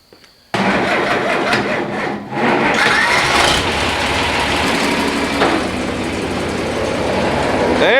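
A tractor PTO kicks in to drive a grain vac, a loud steady mechanical roar that starts abruptly after a brief quiet moment and holds on, with a louder surge partway through.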